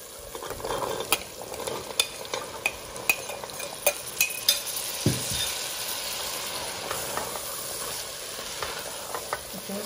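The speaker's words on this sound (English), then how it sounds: "Now I'm going to add the chickpeas." Chickpeas go into a frying pan of hot oil and spices, giving a loud steady sizzle under repeated sharp scrapes and clinks of stirring.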